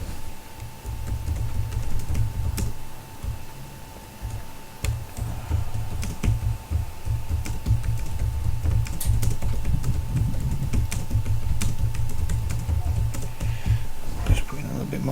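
Rapid clicking on a computer keyboard during an online poker session, fairly close and continuous in irregular bursts, with someone talking intermittently over the typing.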